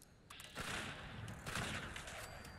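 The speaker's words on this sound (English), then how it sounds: "These are just uncharged spam fire." Uncharged weapon fire in Fallout 76: a quick burst of several rapid shots in close succession, fairly quiet and alone.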